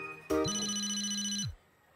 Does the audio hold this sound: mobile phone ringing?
yes